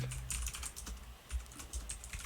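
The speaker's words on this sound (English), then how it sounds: "Chris, the time for typing is done, buddy." Fingers type on a computer keyboard in an irregular run of quick clicks and taps, close and fairly quiet, with no talking.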